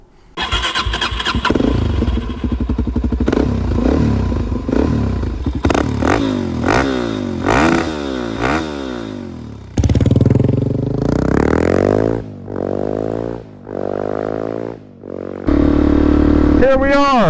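A Suzuki DRZ400SM motorcycle starts, then revs and accelerates through repeated rising and falling engine pitches, loud and close, with clattering and gear changes through the ride.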